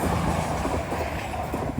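A CrossCountry train in new livery rolls past along the Teignmouth seafront, a steady dense rumble with faint rail clatter, loud and close throughout with no talking.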